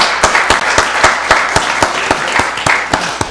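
A county board of commissioners meeting audience gives a round of applause, loud dense clapping with distinct sharp claps standing out in a fairly regular rhythm across the few seconds.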